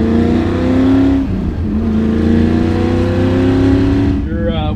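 A 1965 Shelby GT350 Mustang engine roars and revs loudly on Los Angeles streets, a thick rumbling tone with pitch swells and a brief dip before climbing again, close and continuous.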